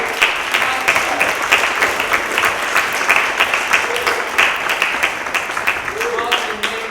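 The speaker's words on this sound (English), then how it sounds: "a huge round of applause for Martin and his 40 years of service" A crowd claps for Martin on his retirement after 40 years of service, a sustained, lively round of applause with sharp individual claps standing out and no break in the sound.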